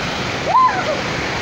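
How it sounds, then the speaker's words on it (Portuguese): Waterfall and flowing river water at a Brazilian cachoeira, a steady broadband rush heard close and continuous, with a brief higher splash or voice-like sweep near the middle. "Vim visitar a cachoeira."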